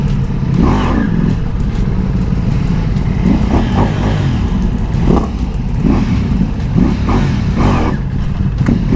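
A motorcycle engine warms up at a racetrack, loud and close, with a steady rumble broken by repeated short revs roughly every second or two.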